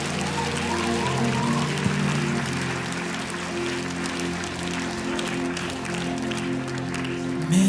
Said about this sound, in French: Est-ce qu'on peut donner un applaudissement à notre Dieu?